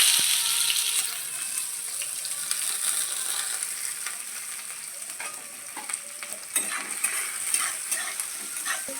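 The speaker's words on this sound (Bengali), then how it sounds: "প্রথমে জিরেটা দিব, এরপর দিব পেঁয়াজ।" Cumin seeds and onion frying in hot oil, a steady close hiss with faint stirring scrapes and a few small pops.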